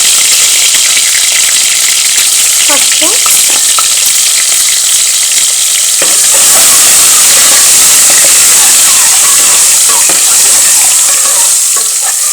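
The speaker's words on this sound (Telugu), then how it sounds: "చిన్న మంట మీద వేగనిచ్చుకుంటే బాగా మాడిపోకుండా ఉంటాయి" Food fries in a pan over a low flame, giving a steady close sizzle and hiss with occasional stirring scrapes and crackles throughout.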